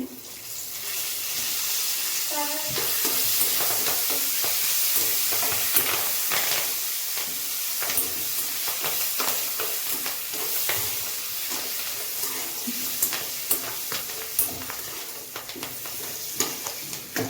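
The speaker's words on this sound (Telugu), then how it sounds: "చూసారు కదా, అన్నీ బాగా ఫ్రై అయిపోయినాయి." Green chillies and curry leaves frying in oil for lemon rice, a steady close hiss of sizzling with scattered pops and spoon scrapes throughout, moderately loud and with no talking.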